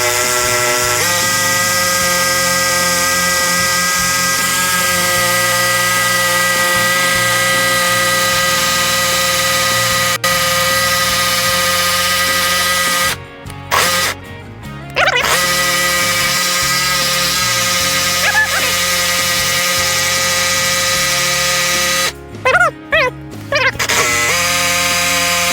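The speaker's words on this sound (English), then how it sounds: "we're going to go slow with our jigsaw" A jigsaw set at 45 degrees cuts slowly through a wooden pallet, a loud, close, continuous buzzing whine sustained for most of the stretch, broken by two short clusters of interruptions where the blade stops and restarts.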